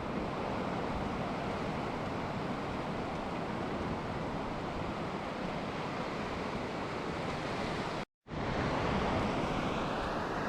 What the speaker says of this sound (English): Every now and again one of these waves just comes like further in than normal.